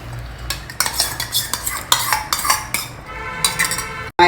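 A spoon stirs beaten curd into boiling South Indian kootu vegetable gravy in a pot, giving repeated scraping clinks and sloshing strokes in an uneven rhythm, close and fairly loud, with no talking.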